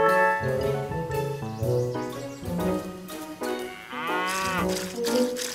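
Cartoon cow mooing in a farm scene while being milked, with a playful musical score under it; the moo rises in a drawn-out harmonic call near the end of the passage.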